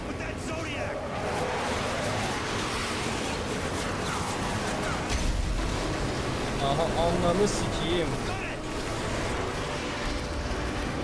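Boat riding over sea waves in Call of Duty Modern Warfare 3, a steady rush of water and engine with swells of wave noise, while someone talks over it.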